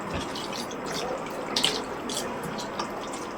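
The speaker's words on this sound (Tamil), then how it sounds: "போட்டு தண்ணியை ஊற்றுவோம்" Water poured from a vessel into a pot for thinning leftover ragi kali, a steady splashing trickle with a few brighter drips and splashes, close by.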